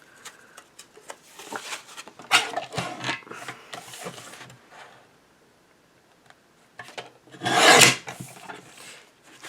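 A recycled greeting card has its front cut off, producing dry rasping, rubbing cuts in irregular bursts with a louder, longer stroke near the end, close and without talk.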